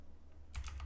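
Computer keyboard typing in a quiet room, a short quick run of three or four soft key clicks close by after a brief near-silent pause.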